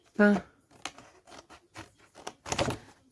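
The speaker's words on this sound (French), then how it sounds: "je vais couper jusqu'au bout" Scissors snipping through paper for a Valentine's explosion-box craft, a few short crisp cuts and rustles spaced irregularly, close up, with a person talking between the cuts.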